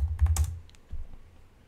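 A few quick keystrokes on a computer keyboard while an image name is entered, a short close burst of clicks followed by a single softer tap.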